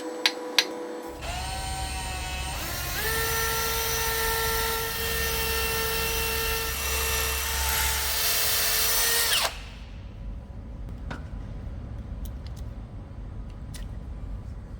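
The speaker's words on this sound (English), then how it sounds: "so I can carry on drilling and tapping our bracket positions" Drilling and tapping bracket positions on a large lathe: a loud, steady power-drill motor whine with strong tonal harmonics runs for about eight seconds, then cuts off abruptly, leaving a quieter workshop with a few faint clicks.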